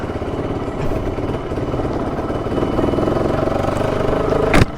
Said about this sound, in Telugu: బైక్ రెడీ అవ్వగానే ఫస్ట్ నేను డ్రైవ్ చేస్తున్నా, అంటే ఐ మీన్ DTSSIDHU కాక.